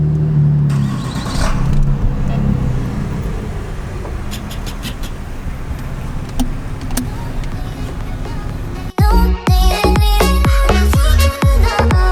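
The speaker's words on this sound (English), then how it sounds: "The Audis are just ripping by." Loud Audi engines roar and rev as the cars speed past at a car meet, with a sharp burst of aggressive engine revving near the end.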